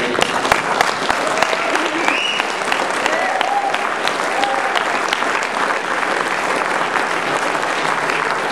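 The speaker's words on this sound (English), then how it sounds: "One more applause, please, for Dr. Peter Phillips." Audience applause fills a theater after a lecture, dense continuous clapping with scattered sharper claps and a few cheers, loud and steady throughout.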